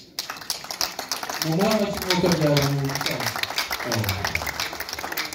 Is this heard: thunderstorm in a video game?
no